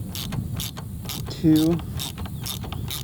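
Steady ratcheting clicks from the suspension adjuster on a Honda Africa Twin as it is cranked up, evenly spaced through the clip, with a voice briefly counting.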